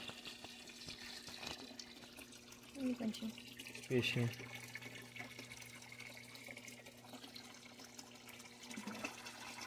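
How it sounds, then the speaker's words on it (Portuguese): Water from an aquarium filter trickles and splashes into a tank holding a peacock bass, a faint continuous pour under a steady hum, while a person speaks briefly nearby. "tá o filtro caindo na água aí"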